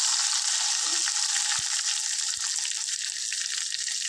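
Ginger-garlic paste and onions frying in hot oil during tempering for a tamarind-leaf dal, a steady bright sizzle throughout with a couple of soft clinks from a spoon, no talking.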